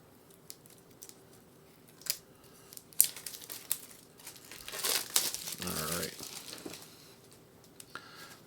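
The plastic wrapper on a Let's Go! To Japan board game box crinkles and tears in scattered bursts, swelling into a loud, close, sustained crunch midway before settling into a few small rustles.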